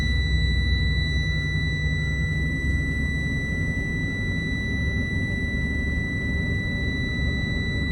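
A steady high-pitched electronic low air pressure warning tone on an air-brake bus drones continuously over the low rumble of an idling diesel engine.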